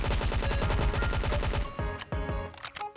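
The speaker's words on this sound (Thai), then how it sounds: "โอ้ยยเสียงปืนครับตึ๊ดตึ๊ดตึ๊ดตึ๊ด รุนแรงมาก" A rapid burst of gunfire from a violin-like gun in the video game NIKKE, evenly spaced loud shots firing for over a second before breaking into a few scattered, sharper blasts.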